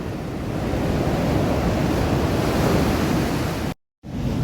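Continuous roaring surf from rough-sea waves breaking on the shore at Kasaragod, Kerala, loud and close, mixed with wind rushing across the microphone. The sound cuts out briefly near the end.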